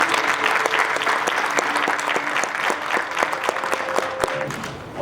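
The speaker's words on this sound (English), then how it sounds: "let's please give a round of applause to someone who could not be here today" A crowd claps steadily at a middle-school graduation ceremony, a continuous wash of applause with a few louder individual claps cutting through, holding even for about five seconds.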